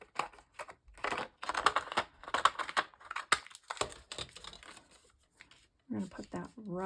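Quick snipping and paper rustling as decorative scissors cut a strip from a book page for a journal belly band, a series of crisp irregular cuts with a voice speaking briefly near the end.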